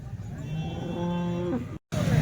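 Holstein Friesian and Jersey cattle mooing at a cattle market in Chalisgaon, a long, drawn-out call lasting over a second, with background crowd noise, then another low moo begins after a brief cut.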